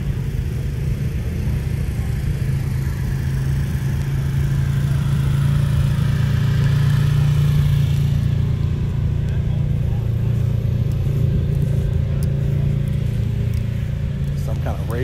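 Racing car engines rumble steadily at a large car shootout, a loud, continuous low drone that holds through the whole stretch with slight shifts in pitch, with no clear pauses or talk above it.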